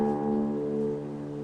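A single guitar string tuned to D in open D tuning rings out sustained and clear, its tone holding steady and slowly fading over a second and a half, close and alone.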